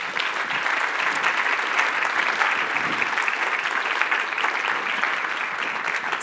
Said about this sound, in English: let's give a round of applause to Jeff Olson